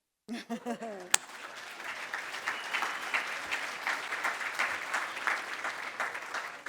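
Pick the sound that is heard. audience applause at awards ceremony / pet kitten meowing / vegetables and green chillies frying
audience applause at awards ceremony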